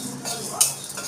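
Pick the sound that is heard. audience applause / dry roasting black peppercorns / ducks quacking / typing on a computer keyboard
dry roasting black peppercorns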